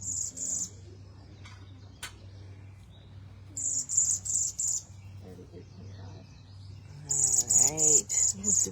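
A bird at a bird banding station gives two bursts of rapid, high-pitched chirps, close and clear over a low steady hum, with faint voices between the calls.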